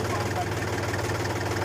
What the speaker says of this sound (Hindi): आराम आराम से ट्रैक्टर उतारो